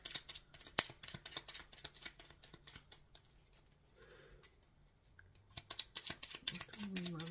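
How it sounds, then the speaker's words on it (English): Tarot cards are shuffled close up in rapid crisp riffles and slaps, pausing briefly in the middle before resuming, with a voice speaking over parts of it. "Shuffling for the Hierophant in reverse."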